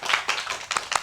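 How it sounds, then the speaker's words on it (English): A handful of people give a short round of applause for a guest at the close of a podcast talk, a few separate claps and quick bursts sounding near and fairly loud. "round of applause"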